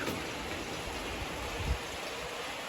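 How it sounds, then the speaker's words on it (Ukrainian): Steady rain falls outdoors, a soft continuous hiss of drops with no voices, heard as even background texture throughout. "Вже трошки був дощ, зараз знову, я думаю, буде."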